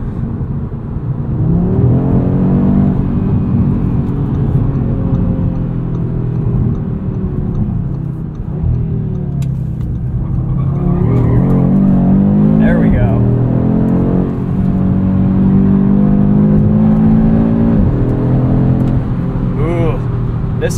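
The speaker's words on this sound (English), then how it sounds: "Gosh, that launch control was just insane." A 2022 Audi RS 3 launches hard on launch control, engine droning loud and steady as revs climb through gear changes, with wheel spin off the line; the car sound runs throughout, and people talk over it.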